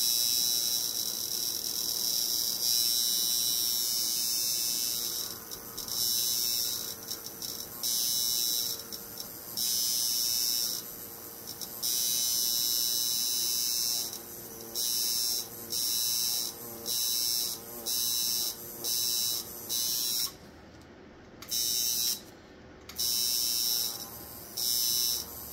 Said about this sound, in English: Got a little bit of a bog, you can hear it, but because I'm tattooing a grapefruit